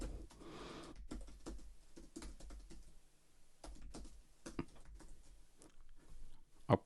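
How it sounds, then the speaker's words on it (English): Someone types on a computer keyboard in fast, irregular bursts of clicks. The keystrokes are close but soft, and no one speaks. "the bits where I'm just typing and not talking"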